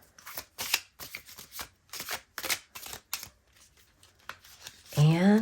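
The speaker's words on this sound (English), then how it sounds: "let me do a little more shuffling here" Tarot cards being shuffled by hand in quick, crisp bursts of riffling and snapping, close and fairly quiet, ending with a short voiced sound.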